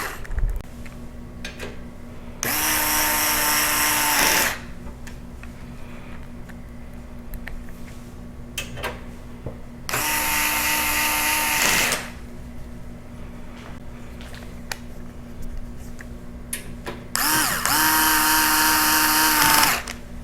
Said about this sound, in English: we can go ahead and put those screws back in and tighten it back up.